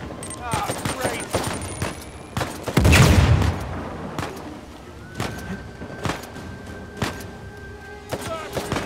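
Explosions and gunfire crash through a combat scene in the video game Uncharted 4: sharp bursts and rattling shots, with one heavier blast in the middle, all close and loud.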